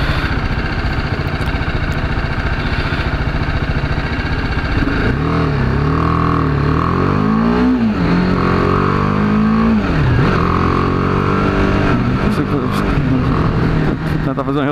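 A BMW G 310 R motorcycle engine roaring close and loud through a downshift, the revs swooping up and down in blips as gears drop, with a rider's voice talking over the engine.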